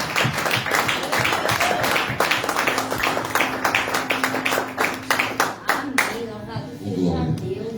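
A church congregation applauds a presbyter as he comes up to preach, brisk, loud clapping from many hands filling the room, with voices mixed in.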